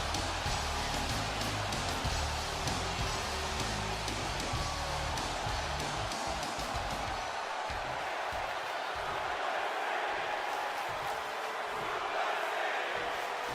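Arena crowd in the wrestling video game WWE 2K20 roars in a steady, dense wash of cheering with a low thumping beat early on, loud and continuous throughout.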